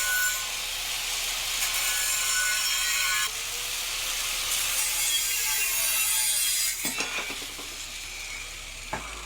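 An angle grinder cutting through material with a steady, loud, hissing abrasive roar, shifting slightly in tone, ending in a few clunks and taps near the close.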